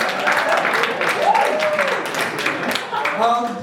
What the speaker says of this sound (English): So round of applause to yourself and